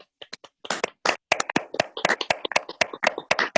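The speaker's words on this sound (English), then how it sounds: "And one more little round of applause as we" Sparse clapping from a small group at a legislative session adjournment, with distinct, irregular hand claps in a quiet room that thicken into a light patter.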